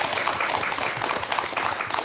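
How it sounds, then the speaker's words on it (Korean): Studio audience on a Korean morning talk show claps warmly to welcome four guests, a dense, steady wash of applause filling the whole moment without speech. "큰 박수로 맞아주시기 바랍니다"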